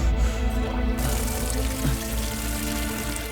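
Cold water poured over someone's bowed head, a steady broadband splashing and trickling that runs close and continuous without pause.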